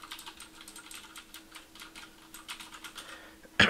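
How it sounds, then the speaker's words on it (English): Mechanical keyboard with Cherry MX Blue switches typed on steadily, a close, crisp run of clicky keystrokes in an uneven rhythm, ending in a sudden louder clack. "just show you how the keys sound."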